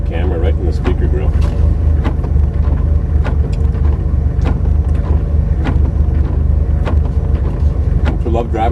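A BMW car drives through the small town of Schenectady, giving a steady low engine and road rumble with faint clicks and rattles throughout.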